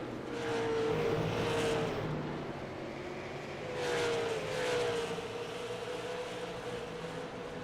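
Race cars circling Myrtle Beach Speedway, engines roaring steadily with two louder swells as cars pass near, a continuous droning pack of motors.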